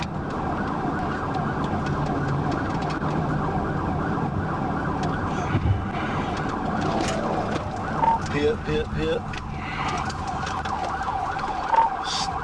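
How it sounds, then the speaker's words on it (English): A police car siren wails steadily through a pursuit on the road, under engine and road noise. It stays loud and continuous, with brief shouted voices partway through. "The officer activated the siren and lights to initiate a pursuit."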